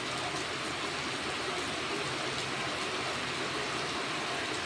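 Heavy rain pours down steadily over farm fields as a dense, continuous wash of noise with no breaks and no talking.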